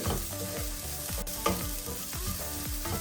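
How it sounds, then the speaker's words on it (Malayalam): Egg masala fried and stirred in a pan: a steady sizzle runs throughout, with a spoon scraping through the mix in a regular rhythm of strokes, close and clear, with no voices. "ആ പച്ചമണമൊക്കെ മാറുന്നത് വരെ നമ്മൾ ഇങ്ങനെ ഇളക്കി കൊടുക്കുക"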